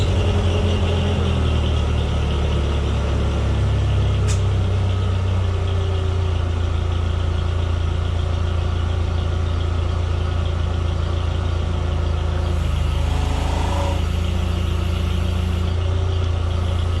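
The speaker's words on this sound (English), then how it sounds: "I've got the cylinder hooked up to the Mini, and we're going to see if we can cycle the cylinder" A Ditch Witch mini skid steer runs steadily while its hydraulics cycle a grapple cylinder that has a leaking O-ring, a loud continuous close engine drone with a slight change in pitch partway through.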